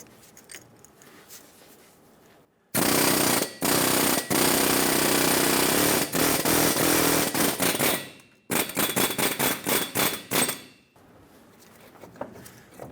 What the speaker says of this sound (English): I'm going to use an air chisel and go around the base of this wheel bearing.